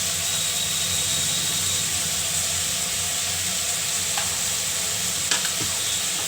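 Potato and eggplant sizzle steadily in a pan with turmeric and salt as they are stirred, a loud, constant frying hiss with faint scraping and a few small clinks near the end.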